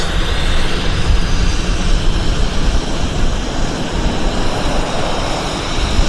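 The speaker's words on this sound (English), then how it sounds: "This guy start up his engines." Jet engines of an American Airlines airliner spooling up at Vancouver Airport, a steady loud broadband roar with a deep rumbling low end, continuous and sustained, heard alone without talk.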